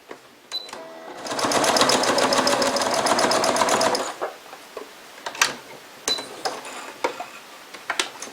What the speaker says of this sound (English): I'm going to simply finish it by top stitching that top edge